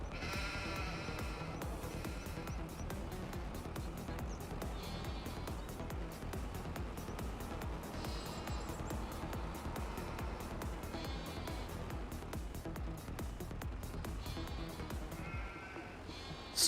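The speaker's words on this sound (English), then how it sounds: "Excuse me, sheep." A flock of sheep bleats over and over on a farm, many overlapping calls near and farther off, sustained throughout against a constant low background rumble.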